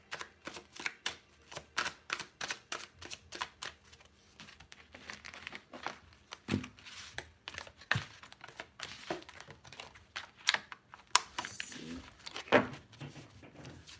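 Dense, rapid papery riffling and crinkling of tarot cards being shuffled, continuous and close, with a few sharper snaps and taps near the end.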